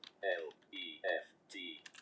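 Typing on a computer keyboard while entering text into a table, heard as soft clicks in short bursts that alternate with a voice speaking over them at close range.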